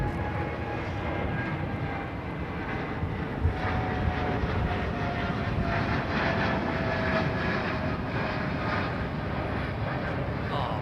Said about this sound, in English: China Southern going over the top